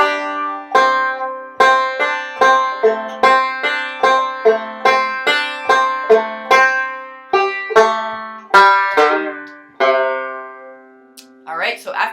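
Banjo picks a repeated phrase from "Kansas City Railroad Blues", bright plucked notes in a steady rolling rhythm, close and solo, with a final chord left to ring out.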